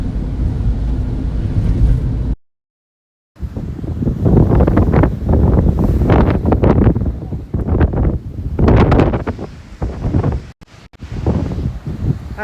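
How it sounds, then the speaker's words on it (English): Strong typhoon wind batters the microphone on an exposed coast at Ishigaki, Japan, a loud roaring buffet in surging gusts with a brief cut to silence partway through. "the wind is doing what you'd kind of expect it to do"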